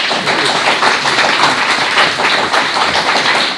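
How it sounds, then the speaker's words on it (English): Audience applause after a panel discussion at a small office meetup, a steady wash of many hands clapping that holds evenly throughout at close range. "Please give the speakers a round of applause."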